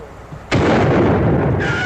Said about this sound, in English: Dorothy, that shot comes in the direction I thought it did